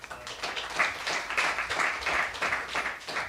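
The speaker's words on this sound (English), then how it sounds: "Yo, applause again." Audience applause at a breakdancing event talk show, a dense, steady wash of clapping that holds for several seconds, with faint voices in the crowd.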